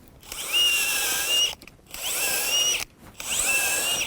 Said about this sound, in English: I'll quickly demonstrate this little auger bit while we're here